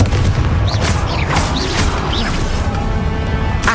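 Repeated Confringo blasting spells from the video game Hogwarts Legacy, several bright bursts and crackling booms over a constant low rumble of in-game combat noise, loud and close.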